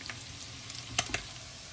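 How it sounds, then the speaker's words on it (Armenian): Chopped onion and crushed garlic frying in a pan while being stirred, a soft steady sizzle with a few brief utensil scrapes, close and fairly quiet. "Լավ կխառնեմ, մինչև լավ տապակվի սոխը"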